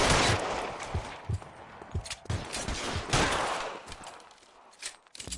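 A shootout in LA Noire, with bursts of gunfire cracking in quick irregular volleys, loud and close, a few sharp isolated shots toward the end.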